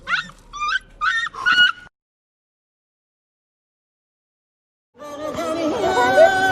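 A dog whimpers and yips in short high-pitched bursts during an earthquake in İzmir, then falls silent for a few seconds before a longer, wavering whine rises up close.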